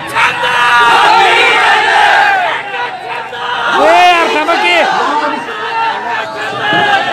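Rally crowd at a politician's political speech clamors loudly, a dense mass of shouting voices swelling and dipping, with whistle-like tones rising above the din.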